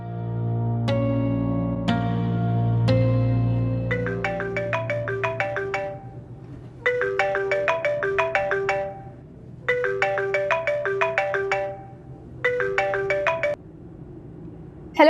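A mobile phone ringtone plays during an outgoing call that goes unanswered: a sustained chiming tone gives way to repeated bursts of bright electronic beeps separated by short gaps, loud and alone.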